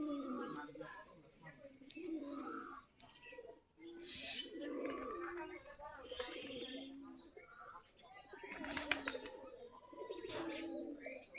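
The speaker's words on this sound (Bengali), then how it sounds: "আমাদের সবগুলা দেশি গিরিবাজ কবুতর ওই যে দুয়ার দিয়ে খাবার খাচ্ছে" A flock of desi Giribaz pigeons feeding at a doorway, soft cooing and scattered chirps at a distance, with occasional wing flaps and shuffling, under intermittent human talk.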